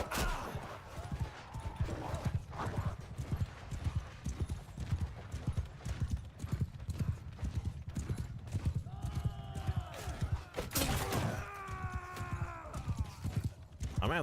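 Horse hooves clip-clop steadily and close in a Bannerlord battle running a Lord of the Rings mod, with scattered clashes, a few sharp bursts and brief tonal game sounds layered over the rhythmic galloping.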